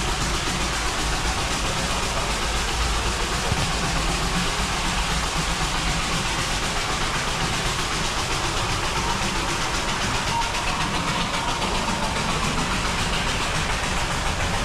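Coal-fired steam locomotive of the Darjeeling Himalayan toy train, heard as a steady, continuous broadband rumble with hiss throughout, moderately loud and unbroken, with no talk.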